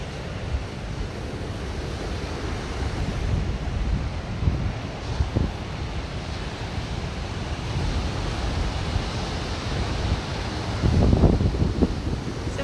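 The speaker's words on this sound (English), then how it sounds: "we're here at Moonstone Beach Boardwalk in Cambria, California" Ocean surf and wind at Moonstone Beach in Cambria, California, a steady broad wash of breaking waves with gusty wind buffeting the microphone throughout, swelling slightly louder near the end, with no talking.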